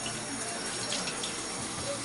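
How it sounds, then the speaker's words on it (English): A kitchen tap runs steadily as garlic is washed off hands, giving a continuous close hiss of running water with no talking. "had a little garlic on my hands, just gonna wash up real quick."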